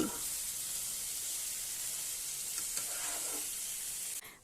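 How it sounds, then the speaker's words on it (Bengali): Prawns being stirred with spice masala in a hot pan for a Kolkata restaurant-style prawn malai curry give a steady, close, bright sizzle with faint stirring scrapes, cut off by a brief knock at the end. "এবার খুব ভালোভাবে নাড়াচাড়া করে মশলার সাথে মাছগুলোকে মিশিয়ে নিতে হবে"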